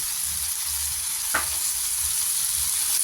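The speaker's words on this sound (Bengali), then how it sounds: "দিয়ে এটাকে ভালো করে নেড়ে চেড়ে সিদ্ধ হতে দেই 5 মিনিট" Mango and grape chutney with a little turmeric and salt simmers in a pan, a steady soft hiss of cooking broken by one brief scrape of stirring.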